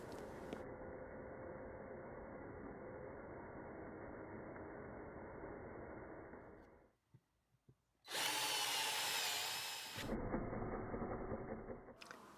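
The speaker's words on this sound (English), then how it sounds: "Papa Tiny Treasures is going to use his drill to help us dig out the canoe" A power drill digging out a toy canoe, a steady close whirring drone that stops briefly, then returns with a brighter, higher-pitched whine before settling back to the lower spin.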